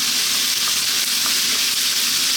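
Pork with ginger, garlic, carrots and onion stir-frying in a pan over very high heat, giving a loud, steady, close sizzle that runs unbroken with no talking.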